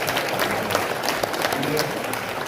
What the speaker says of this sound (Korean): 저를 위해서 박수를 주셨습니다.